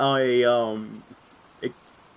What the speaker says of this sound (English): Can you turn off the rain? Is it too loud?